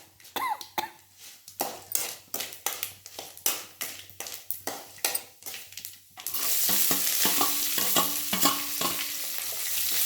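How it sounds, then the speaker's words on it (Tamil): Chopped small onions (shallots) and curry leaves sautéing in a pan for sour tamarind broth, a spoon tapping and stirring in quick uneven strokes, then a steady loud sizzle as frying takes over, close by with no talk. "சின்ன வெங்காயத்தையும் கருவேப்பிலையும் நல்லா வதக்கணும்."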